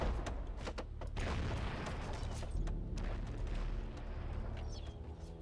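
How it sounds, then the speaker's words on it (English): Cannon fire in the strategy video game The Settlers: Heritage of Kings, a dense continuous barrage of booming blasts and crackling impacts with rumbling low end, loud and unbroken with no talking. "There are all his cannons."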